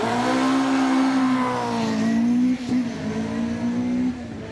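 A hillclimb race car at Prescott roars loudly on the line with a sustained high engine note, briefly dipping midway, then holding steady before cutting off near the end.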